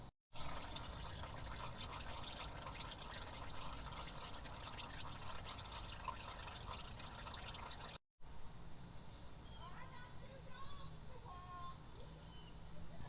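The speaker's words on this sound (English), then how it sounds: "Alright, so I got a little drip." Engine oil drips and trickles from the drain of a 2012 Ford Focus during an oil change, a soft, steady liquid patter close by that continues for the whole stretch.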